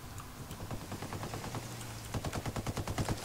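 Rapid automatic gunfire crackles in a Ghost Recon Wildlands firefight as bursts of quick repeated shots keep coming, growing louder and denser toward the end, with no speech.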